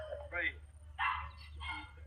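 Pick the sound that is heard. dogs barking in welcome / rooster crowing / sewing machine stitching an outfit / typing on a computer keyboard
dogs barking in welcome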